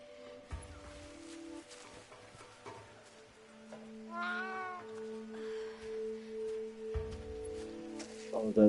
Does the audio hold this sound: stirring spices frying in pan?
no